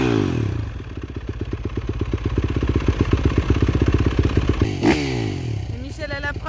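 Yamaha YZF 250 motorcycle engine revving up close, a rapid pulsing four-stroke rhythm that steadies and builds, then a sharp burst and gear change as it pulls away, with wind and mechanical clatter.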